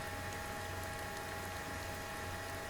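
Continuous rain in the Steel Beasts tank simulator, heard from an M60A3 tank with its engines shut off: a dense, steady wash of patter at moderate level that never lets up, with no voices.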